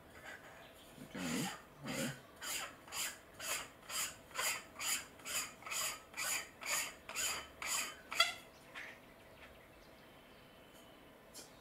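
A threaded lens cover being screwed onto a 10-50x60 rifle scope for a CZ 457 rifle, giving about fifteen evenly spaced rasping turns, close and alone, ending in a small click.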